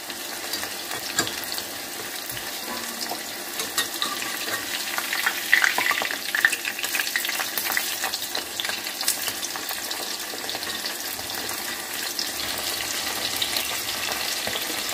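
Egg- and cornflour-coated chilli chicken pieces fry in hot oil with a steady, close sizzle, broken by occasional light stirring and turning sounds.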